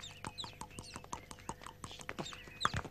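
Horse hooves clip-clop in a steady, fairly quick rhythm of sharp knocks, close by and moderately loud, with other faint background sounds around them.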